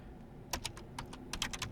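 A short run of keystrokes on a computer keyboard as a prompt is typed, with about a dozen soft, close clicks in an uneven rhythm over a faint background hum.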